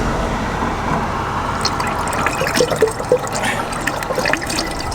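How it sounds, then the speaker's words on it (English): Washer fluid pours into the washer bottle of a Ford Econoline van, a continuous close liquid gurgle with a few small splashes and trickles near the end. "It's a good time to fill up the washer bottle."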